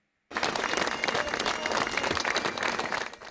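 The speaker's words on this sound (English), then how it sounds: "today, a respectful applause to remember one of Manchester United's all-time greats" Mourners at Denis Law's funeral at Manchester Cathedral give sustained applause for the Manchester United great, a dense, steady wash of many hands clapping from a large crowd that starts abruptly and carries on unbroken.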